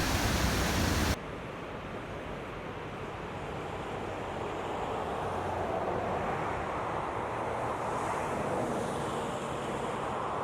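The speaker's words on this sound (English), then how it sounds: "It makes us feel good to be at Willamette Falls and listen to the water." Steady roar of rushing water at Willamette Falls, broad and continuous like a nearby waterfall, with a louder burst at the very start.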